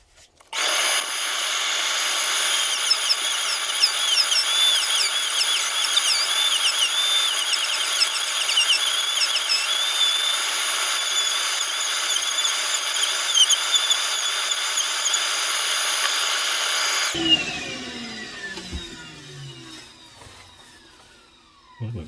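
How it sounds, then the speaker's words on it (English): A small Dremel rotary sander grinds into a turned wooden piece, a loud high-pitched whine held steady for about seventeen seconds, then spinning down to quiet. "the bits I want to try and eat away at with my little Dremel sander"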